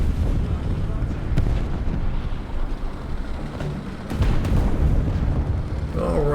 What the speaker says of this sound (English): we'll just give him some more bombs